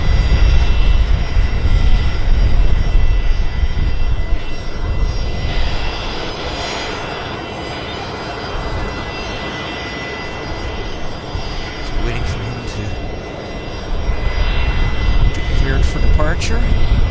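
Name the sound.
Air Canada A321 jet departing from runway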